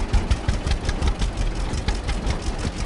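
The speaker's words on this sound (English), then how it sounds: "here he comes with his tractor" A tractor engine in the farming game Farmer's Dynasty runs steadily, a low rumbling idle with a pulsing throb, close and continuous with no talk.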